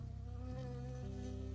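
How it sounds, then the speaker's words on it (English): A bee in the video game Firewatch buzzes close by, a steady droning whine that shifts pitch partway through its short burst, with no voices. "I got stung by a bee."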